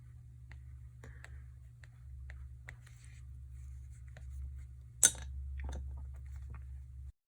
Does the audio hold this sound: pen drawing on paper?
yes